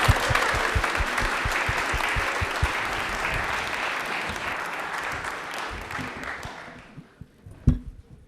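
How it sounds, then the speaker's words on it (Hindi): Strong applause rises from a studio audience at a televised quiz show, with a few distinct claps standing out early. The clapping stays dense, then fades out quickly near the end, leaving a brief sharp sound. "तालियां एक बार जोरदार इनके लिए तो बजती है"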